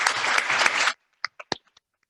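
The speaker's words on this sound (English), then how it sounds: "So let's give these great student members a round of applause." A short round of applause for student members at a holiday awards program, a dense clatter for under a second that cuts off abruptly, followed by a few scattered, isolated claps.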